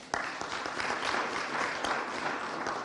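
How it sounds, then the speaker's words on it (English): An audience at a governance event applauds a guest from a democracy institute, a dense, steady round of clapping that starts abruptly and holds evenly, heard alone without talk. "Please, let's give him a round of applause"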